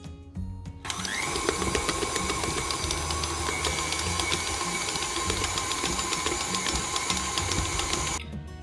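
A stand mixer kneads bread dough on medium speed, its motor whirring in a loud, steady drone with a faint rhythmic thump of the dough. The machine starts abruptly and stops just before the end.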